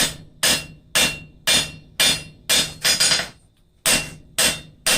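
Hammer blows ring out on hot steel on an anvil while forging blacksmith calipers, at a steady pace, about ten heavy strikes over several seconds with a brief pause near the end, close and loud.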